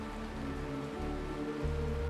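Rain falls in the video game Honkai Star Rail, a soft, even patter of drops on surfaces, steady and fairly quiet with no voices over it.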